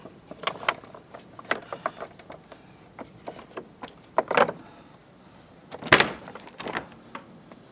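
Sharp metallic clicks and clacks of a lock and key at an old salt pan building in Rio Maior, with scattered taps followed by a few louder rattling clunks.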